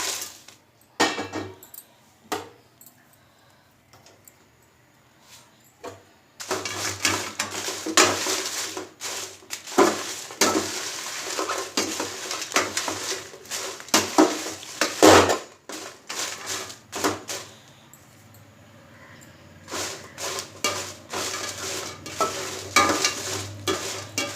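Dried red chillies roasting in a pan, stirred and scraped in repeated bursts of dry rattling and crackling, with quiet pauses between rounds of stirring; close and fairly loud, with no voices.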